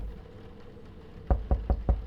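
Five heavy, evenly spaced knocks thud on a door in a horror video game, each sharp and loud after a stretch of quiet ambient hum.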